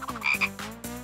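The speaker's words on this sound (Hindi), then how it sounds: "मुझे मेंढक से नफरत है।" A cartoon frog croaks in a quick run of three or four short, throaty, close-up croaks, clear and alone with no talking.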